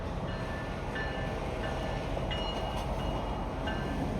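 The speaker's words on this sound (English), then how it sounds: "Here comes the Napa Valley wine train." The Napa Valley Wine Train rumbles past close by, a steady heavy roll with faint metallic squeals and clicks over the rails throughout.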